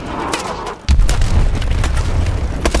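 A rocket-propelled grenade explodes with a loud, sudden boom in the Call of Duty: Advanced Warfare campaign's Seattle street fight, its dense low rumble sustaining for about two seconds after a quieter stretch of game noise.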